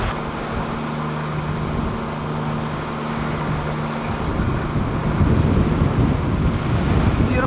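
Sea waves and wind roll past a cruise boat off Baja, Mexico, a steady loud wash with gusty wind buffeting the microphone and a low engine hum underneath, building slightly toward the end, with no talk.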